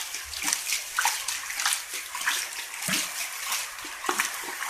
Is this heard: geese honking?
no